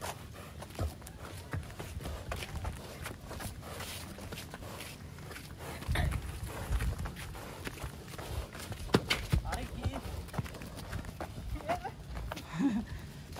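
A sacrificial cow's hooves clop along a hard road at a steady walking pace, with scattered voices and outdoor background noise around them.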